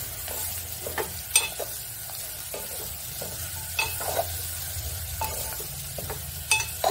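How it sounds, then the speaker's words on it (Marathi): Chopped round gourd (tinda) is stirred and fried in a pan with a steady sizzle and repeated scraping clinks of a spoon against the pan, close and continuous, with no voices. "आता आपण याच्यामध्ये भाजी घालूया। आणि ही छान परतून घेऊया।"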